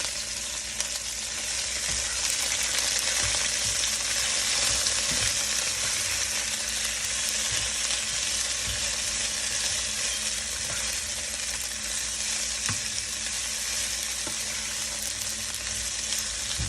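Fajita vegetables for steak fajitas sizzle loudly and evenly in a hot pan, a close, continuous hiss with a few faint clicks and no talking.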